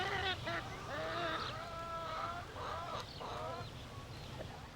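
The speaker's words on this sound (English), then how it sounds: "they would have been in close contact with ducks and chickens and other animals on their farms" Chickens cluck and squawk on a farm in southern China, where ducks and other animals are kept nearby. Several fairly loud, close calls come in quick succession over a steady background hiss.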